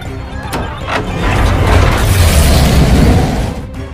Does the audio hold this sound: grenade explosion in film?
yes